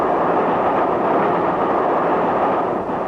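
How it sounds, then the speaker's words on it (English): Train wheels rumble and rattle over crossover points on the London, Brighton and South Coast line in a radio drama, a loud, continuous rolling roar with no voices. "Did you hear that rattle of the wheels just now? Feel the whole train sway slightly?"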